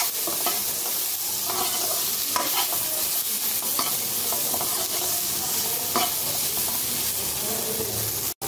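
Ingredients fry in a little oil in a pan, with a steady sizzle and repeated scraping stirs for a fish curry, close and continuous until an abrupt cut at the end.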